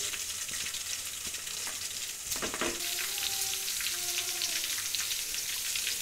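A kilogram of chicken fries in a karahi, giving a loud, continuous hiss and crackle up close, with a brief burst of stirring or scraping partway through, and no one speaking.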